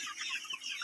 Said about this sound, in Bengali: দেখেন মুরগি কত সুন্দর করে খাচ্ছে এগুলো